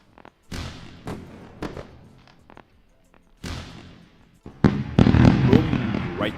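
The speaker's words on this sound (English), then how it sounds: "Time for the fireworks." Fireworks bursts going off in a live trading stream: several sharp booms and crackling explosions, sparse at first and then a dense, loud barrage near the end, with no talking.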